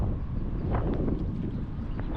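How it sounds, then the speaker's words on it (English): Wind blowing across a river while fishing from a small boat, a steady loud buffeting roar against the microphone, with faint knocks and water sounds underneath and no voices. "The wind is blowing us upriver this fast"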